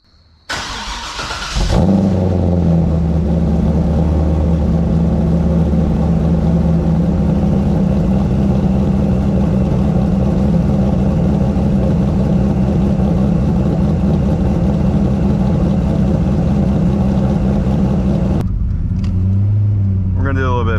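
A C5 Corvette engine starts abruptly and settles into a loud, steady idle with a deep, throbbing exhaust note, holding nearly unchanged before a shift in tone near the end.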